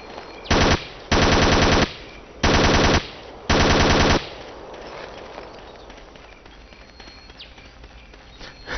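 Suppressive machine gun fire in the video game Ghost Recon Island Thunder comes as four loud, close bursts of rapid automatic shots in the first half, then quieter ambient noise with scattered faint sounds.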